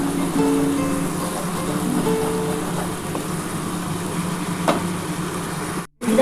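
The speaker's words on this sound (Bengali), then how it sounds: "ভালো করে মশলাটা কষিয়ে নিতে হবে যতক্ষণ না তেলটা ছেড়ে ছেড়ে আসবে" A mustard and poppy seed spice paste for pomfret curry fries in oil, a steady close crackling sizzle that runs unbroken before a brief dropout at the end.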